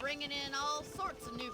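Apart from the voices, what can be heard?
No everyday noises stand out.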